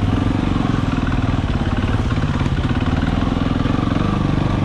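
An enduro motorcycle in low gear climbs uphill, its engine chugging in a steady, throbbing low rumble that stays loud and close for the whole stretch, with no voices over it.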